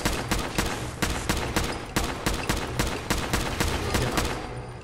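Rapid gunfire in the video game Fallout 4, a loud close burst of about a dozen shots in uneven quick succession, ending in a short gap with no talk.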